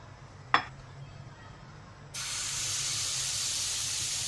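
Oil hitting a hot tawa griddle while cooking banana pancakes, a sharp clink followed by a sudden steady loud hiss of sizzling that continues without a break.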